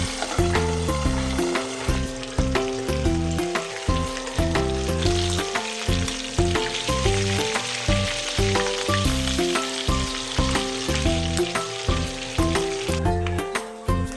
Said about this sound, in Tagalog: Nagprito lang ako dito ng isda guys, galunggong nga pala yan